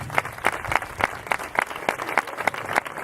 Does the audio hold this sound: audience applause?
yes